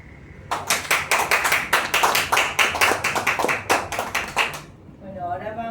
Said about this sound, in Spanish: Lo aplaudimos, Miguel, no los escuchó, pero lo aplaudimos.